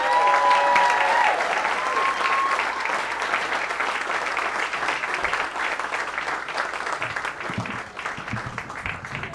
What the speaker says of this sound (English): give a big round of applause right now for Rob F. Martinez?